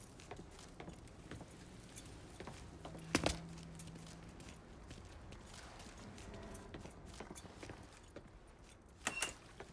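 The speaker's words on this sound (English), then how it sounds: "Lincoln, pick up the keys." Keys jingle briefly as they are picked up in Mafia III, a short metallic rattle near the start standing out against quiet game ambience, with a couple of faint clicks and footsteps around it.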